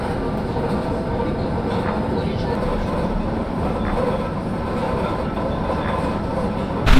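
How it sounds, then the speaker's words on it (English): A train rumbles steadily nearby at Chernobyl, a continuous low roar with faint rattling throughout. "there's a train here"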